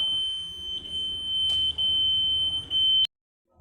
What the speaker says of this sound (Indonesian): saya demonstrasikan sebagai lampu peringatan hati-hati menggunakan LED dan buzzer